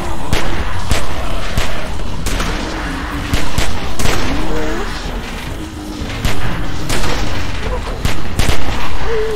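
Rapid gunfire from The Walking Dead Season 2 video game during a zombie attack on a gate, dense repeated shots and booms throughout, with shouted voices partly under the barrage.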